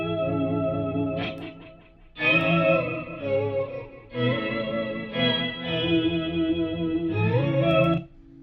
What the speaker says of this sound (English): I could go and put the Bias Effects 2 on it, and then suddenly I could just sculpt the sound any way I want